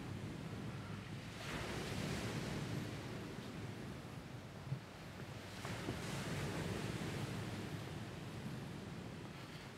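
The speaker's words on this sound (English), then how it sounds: "open your sliding door and hear the waves crashing" Steady broadband roar of surf at a Caribbean resort beach, with waves swelling and breaking in slow cycles, no voices.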